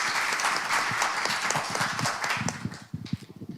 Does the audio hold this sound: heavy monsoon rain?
no